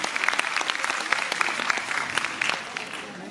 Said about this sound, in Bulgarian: Моля, аплодисменти още за децата на Пирински Нанис, Борислава и Майо